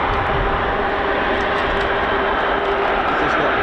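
Airbus A330-200 tanker fitted with an air-to-air refuelling boom and drag-and-probe pods arriving at RAF Fairford, a steady, loud broadband jet roar with a faint tonal whine held throughout, voices murmuring underneath.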